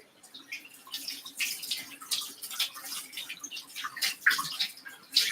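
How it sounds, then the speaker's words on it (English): Running tap water splashes and patters into a container being rinsed out in a kitchen sink, an irregular close spattering that rises and falls for several seconds without speech. "Let me rinse this out a little bit."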